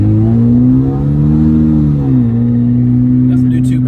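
Car with a catback exhaust and recirculating blow-off valve, a loud, close engine drone that rises and then settles into a lower steady tone, with a brief hiss near the end.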